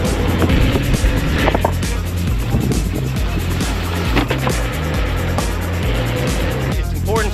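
Inmotion V10 electric unicycle ridden outdoors, with a steady loud rumble and rolling road noise across the whole stretch and a brief whine near the end.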